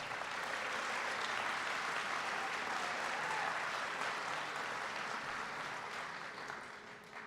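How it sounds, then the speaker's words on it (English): A large audience at a presidential event in Western New York claps steadily for an introduced guest, the applause dense and sustained before gradually tapering off near the end. "Please give her a big round of applause"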